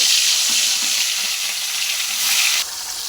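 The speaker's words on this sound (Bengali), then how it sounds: "তেল গরম হয়ে গেছে, মাছ ভেজে নিব।" Rohu fish pieces rubbed with salt and turmeric fry in hot mustard oil in a wok, giving a loud, steady hiss and crackle that stays close and continuous, with a brief dip near the end.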